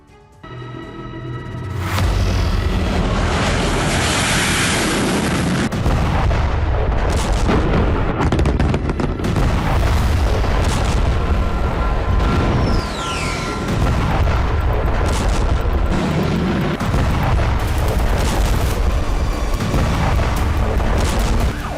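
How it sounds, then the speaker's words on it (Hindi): Israeli bombardment in Lebanon produces a sustained, loud roar of heavy booms and rumbling blasts that continue with little letup, with no talk. "लेबनान में इजरायली सेना 50 घंटे से जिस तरह नॉन स्टॉप बमबारी कर रही है"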